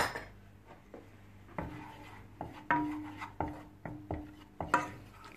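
A spoon scraping and stirring chocolate with a tablespoon of milk into a thick paste in a bowl, a series of separate rasping strokes and clinks at an uneven rhythm, close and fairly quiet.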